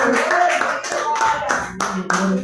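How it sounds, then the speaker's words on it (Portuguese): A church congregation clapping hands in worship, with rhythmic bursts of claps repeating at an even pace over a warm, resonant room, with some voices mixed in underneath. "As palmas que louvam o Senhor, igreja."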